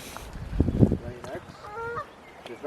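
Geese on an island give several honking calls, with human voices speaking over and around them.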